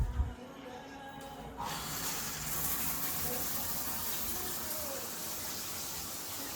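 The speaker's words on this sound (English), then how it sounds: "I'm just gonna go take a shower" A household shower is turned on. After a quieter stretch of about a second and a half, a steady, full hiss of spraying water takes over and runs evenly to the end.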